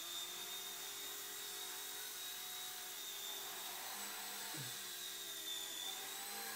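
Align T-Rex 100 micro RC helicopter with a repaired tail, its rotor spinning up indoors as a steady high-pitched whine with a faint motor hum, fairly quiet and even throughout.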